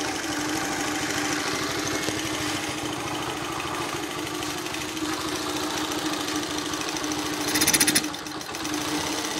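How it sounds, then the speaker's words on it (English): Engine of a 1981 Honda C70 Passport motorcycle, a rapid, steady close putter that swells briefly in a short rev near the end before settling back to idle, no talking. "It'll rev up when it first starts if you hold the throttle open. Then it will go back and it'll just idle."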